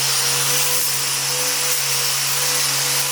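A grinder running with an attachment fitted, a loud continuous high whine with a steady hum, close and unbroken throughout.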